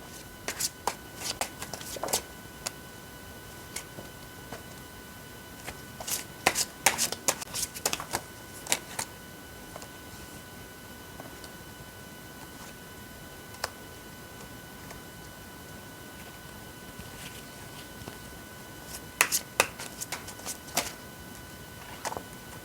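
Tarot cards are shuffled and drawn in soft, quiet bursts of riffling and light taps, clustered near the start, the middle and the end, with hushed gaps between.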